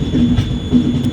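A train rolls over a diamond crossing as it nears Nagpur station, a loud, close rumble of wheels and carriages throughout the brief moment.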